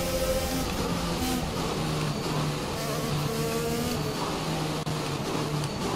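In F1 2021, a Formula 1 race car's engine whines high and buzzy, the pitch shifting up and down through gear changes at a constant loud level.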